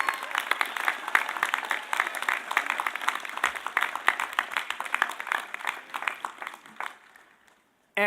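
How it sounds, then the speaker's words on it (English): An audience at a college commencement ceremony breaks into sustained applause, a dense wash of clapping that fades out near the end. "Let's give Bob a big round of applause as well."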